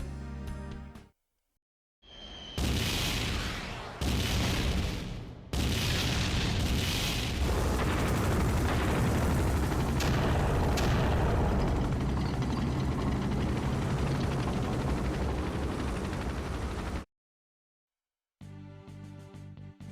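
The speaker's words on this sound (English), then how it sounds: "Dwarven tanks, ready to fire." Dwarven tanks firing in Final Fantasy IV on PSP, heavy booming blasts that swell into a long roaring barrage of explosions, cut off by silent gaps at the start and end.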